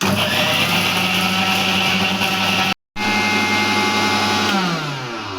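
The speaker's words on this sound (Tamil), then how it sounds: "இப்போ வாங்க நம்ம அரைக்கலாம்" A mixer grinder whirs loudly and steadily as it grinds tulsi leaves and garlic for rasam, with one brief cut-off midway before the motor runs on again.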